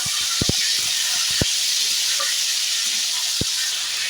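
Large chunks of potato frying in hot oil in a wok, a constant bright sizzle close up, with a few sharp knocks of a utensil against the pan scattered through it and no speech.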